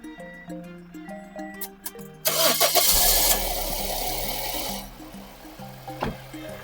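A car engine starts up after an ignition coil replacement, cranking and catching loudly midway, then settling into a steady idle. Music plays underneath.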